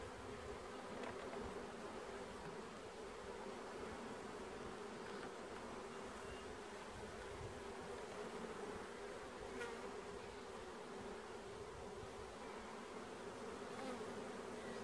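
Honeybees swarm around an open beehive during an inspection, giving a dense, constant buzzing drone throughout, moderately close and steady, with no voices.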